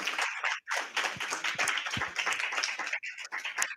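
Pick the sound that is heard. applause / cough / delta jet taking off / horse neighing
applause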